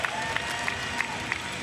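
Crowd applause at the US Open for the 2018 wheelchair tennis quad doubles champions, a steady distant wash of clapping and cheering with a few sharper peaks.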